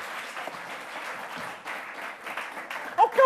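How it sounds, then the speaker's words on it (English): A live audience at an Edinburgh Festival show claps in a steady, moderately quiet patter for a few seconds, with faint voices mixed in near the end. "Give them a big round of applause."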